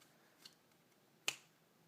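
A single crisp finger snap rings out sharply during a card trick in a quiet room, preceded by a faint softer tap.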